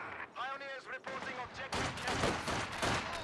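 An MG42 machine gun rattles in Company of Heroes 2 amid rapid battlefield gunfire that builds into a dense, continuous barrage, with a commentator's voice over the opening.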